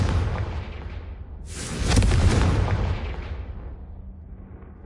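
A Confringo fire spell from the wizarding game Hogwarts Legacy blasts in a loud, whooshing explosion that swells, then slowly rumbles and fades into quiet.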